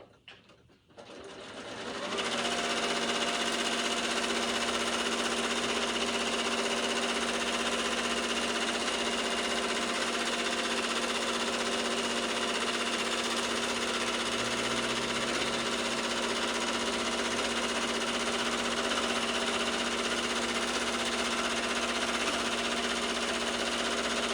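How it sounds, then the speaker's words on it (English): Sewing machine stitching a queen-size quilt mounted on a Grace Cutie quilting frame, a steady loud continuous motor hum with needle rhythm running alone after a brief quiet start. "let me take just few stitches in place and start"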